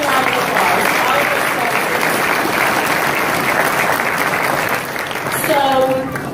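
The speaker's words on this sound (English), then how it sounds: "So please give them a round of applause." Loud, sustained applause from the audience at a Pittsburgh awards ceremony, a thick wash of clapping with voices mixed in, dipping briefly and swelling again near the end.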